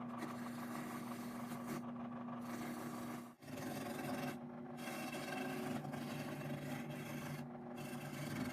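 Hand rounding of a wooden footboard leg for a turned bed, a steady continuous rasping and rubbing that runs close and loud with brief pauses between strokes, no talking.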